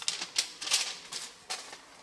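Several quick, crisp snips of spring-assisted scissors on a Gerber Dime multi-tool cutting paper, in an irregular rhythm, close by and fairly quiet, with no voices.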